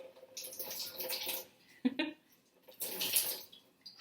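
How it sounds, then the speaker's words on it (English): Water drips and splashes in short bursts as thawed frozen cabbage is squeezed and wrung out by hand, with a brief thump in the middle and quiet gaps between the wet spurts. "it's like wringing out a sponge. Yeah, so just wringing out some of the water."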